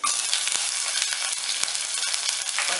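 Green chillies sizzle in hot oil with popped mustard seeds, giving a dense crackling hiss with scattered sharp pops, close and steady for a few seconds, with no voices.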